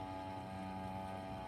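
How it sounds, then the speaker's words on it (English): A small outboard motorboat at full throttle drones steadily with a buzzing, harmonic engine tone, heard from a distance over the water without talking. "That's a little outboard like mine. He's got that thing out at full throttle."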